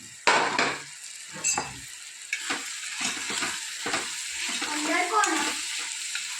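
Vadi being roasted in a spiced pan, a moderate sizzle broken by a sharp clatter at the start and a series of irregular stirring scrapes and taps, with faint talk.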